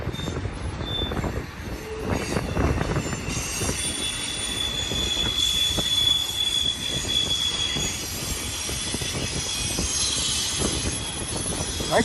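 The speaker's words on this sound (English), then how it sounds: "Train is going up through Sullivan's Curve right there." A freight train climbs Sullivan's Curve at Cajon Pass, its wheels squealing high and sustained against the rails over a low rumble and clatter of cars, heard from a moderate distance with no talking.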